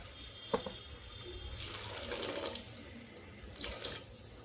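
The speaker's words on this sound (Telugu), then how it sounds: "కొన్ని వాటర్ కూడా పోస్తున్నా చూడండి" Water poured into a pan of stuffed brinjal curry gravy during home cooking, in two short splashy pours separated by a pause, close by and moderately loud, with no talking.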